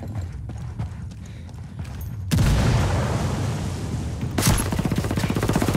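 Grenade explosion in the Ghost War video game, a sudden loud boom partway through that leaves a rumbling tail, with a second sharp burst and rapid clattering fire following.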